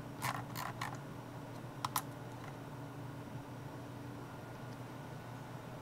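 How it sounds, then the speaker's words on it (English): The scroll wheel of a Razer Basilisk V3 Pro mouse switches between stepped and free-spinning modes, giving a few quick, faint mechanical clicks and ticks near the start and middle over a quiet background hum, with no talking. "the adjustable scroll wheel, which on the V3 and this V3 Pro can swap between a stepped and a smooth freewheel mode at the press of a button"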